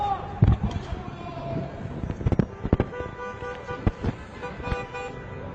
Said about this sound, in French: Yes, shooting again.